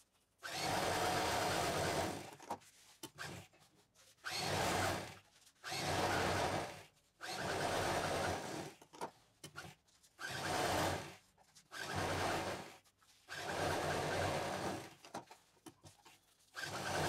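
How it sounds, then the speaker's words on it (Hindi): A sewing machine runs in repeated bursts of a few seconds each, stitching the seams of a bag made from leftover fabric, close and steady with short pauses between runs. "फिर जितने ये जोड़ हैं इस पर हम पहले मशीन चलाएंगे।"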